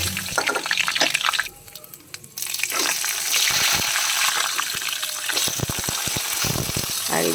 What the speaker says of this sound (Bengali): শুকনো লঙ্কা, 5 ফোড়ন, তেজপাতা ফোড়ন দিয়ে দিলাম, একটু আদা পেস্ট করে দিয়ে দিচ্ছি